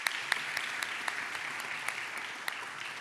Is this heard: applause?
yes